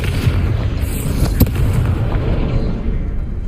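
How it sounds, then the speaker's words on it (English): A Confringo fire spell blasts in the Hogwarts Legacy video game, a heavy booming rumble with a sharp burst partway through that rolls on steadily at close, loud range. "Confringo!"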